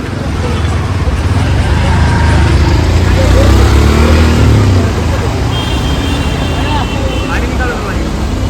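A new luxury Shri Giroba Travels bus on the Borivali to Shiroda route rolls along with a steady, loud rumble of engine and road noise that swells slightly midway and does not let up.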